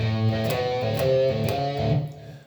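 A short melodic guitar phrase with a few plucked notes and sustained ringing tones, close and clear, fading at the end.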